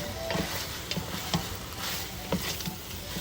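Shrimp cooking in a pan with tomato are stirred, giving a steady close sizzle broken by several soft scraping and clinking strokes of the utensil.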